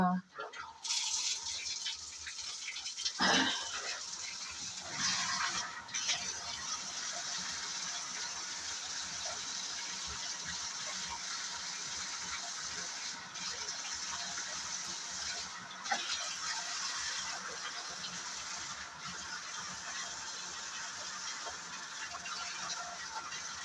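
Shower water runs steadily for a quick foot wash, a constant hiss of spray that continues for the whole stretch with a few brief bumps and splashes.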